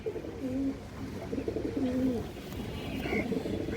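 Pigeons, including a big Bagha female, coo nearby in short low rolling calls that repeat every second or so, moderately loud over light background rustling.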